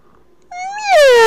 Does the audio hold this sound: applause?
no